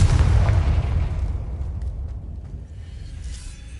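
A Confringo spell explosion from the video game Hogwarts Legacy: one loud, close, deep boom at the start that rumbles and slowly fades across the rest of the moment, with no talking.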